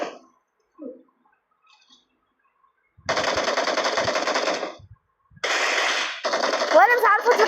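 Video game gunfire in long, loud bursts of rapid automatic shots, with a short gap between volleys, preceded by a brief quiet stretch; someone talks at moments before the bursts.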